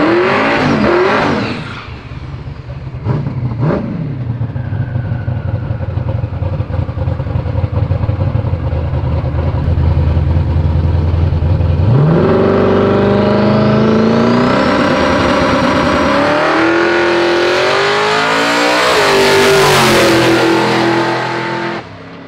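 A turbocharged Corvette Z06 street car of about 2000 hp, running on wastegate at 4 psi boost, rumbles loudly at idle, then revs up hard with rising and falling engine pitch, close and continuous.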